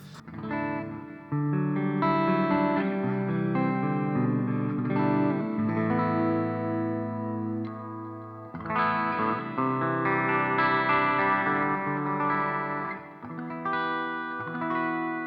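Electric guitar chords played through thick chorus and distortion effects, loud and sustained, with a short pause midway before strumming resumes.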